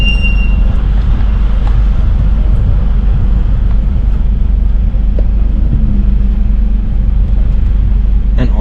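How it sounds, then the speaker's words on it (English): A BMW 430i Gran Coupe with the B48 engine accelerates in Sport Plus, a loud, steady low exhaust drone heard from inside the cabin with road and wind noise, with no talking. "see if you guys can hear the exhaust on it"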